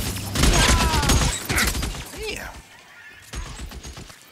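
Gunshots and crashing impacts from the game L.A. Noire ring out in a quick cluster, loud at first and then fading, while players talk over the action.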